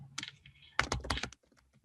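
Keys clatter on a computer keyboard as a student types a name into a text box, in quick close bursts of clicks with a short pause between two runs of typing.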